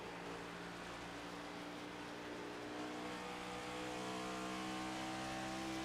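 Race car engine in an NC811 Cup Series sim racing game at Auto Club Speedway, droning steadily with rising revs and harmonic whine, close and loud throughout with no talking.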